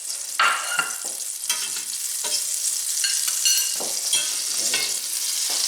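Butter sizzles and spits in a hot skillet for a low-carb cabbage dinner, a steady crackling fry with short bursts of popping as it melts and is swirled around the pan.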